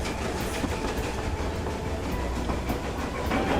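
A train rolls along the line, heard from inside as a dense steady rumble with rhythmic clickety-clack of wheels over rail joints, close and continuous.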